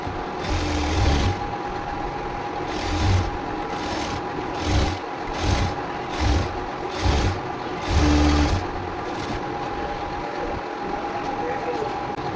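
A sewing machine stitches the lining of a 34-inch blouse with lace attached, running in about eight short, close bursts of rapid whirring with brief pauses between them and no talk.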